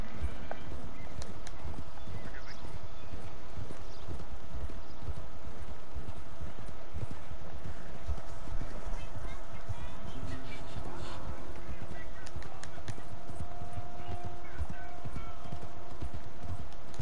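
Steady clip-clopping of horse hooves at a brisk rhythm in Red Dead Redemption 2, with a game-like ambient hum and an occasional whinny beneath.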